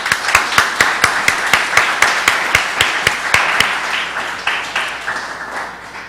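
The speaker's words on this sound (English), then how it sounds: "let's give them a rousing round of applause." Audience applause for Rancho Palos Verdes council candidates at a debate, sounding as a steady run of sharp, regular claps over a faint crowd wash, loud and near, tapering slightly toward the end.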